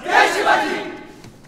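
A crowd gathered on a theatre stage lets out a loud massed shout that swells twice and then fades out over about a second and a half.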